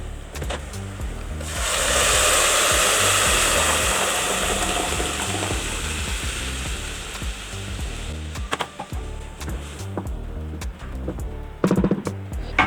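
Onion and garlic for an Egyptian bessara tasha fry in hot oil, a loud, close, continuous sizzle that starts suddenly as they hit the pan and then tapers, with scattered stirring clicks and scrapes near the end.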